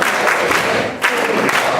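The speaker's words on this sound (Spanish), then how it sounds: "Ya sabemos tocar las palmas con alegría" Dense flamenco palmas, many hands clapping together in an alegrías rhythm, loud and steady with a brief dip in the middle.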